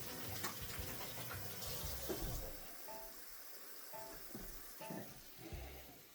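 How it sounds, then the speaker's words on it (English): Tap water runs and splashes while hands are washed at a kitchen sink, a faint, uneven hiss with small knocks and clatters throughout. "I'm just going to wash my hands"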